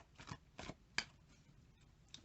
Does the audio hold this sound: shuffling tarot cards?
yes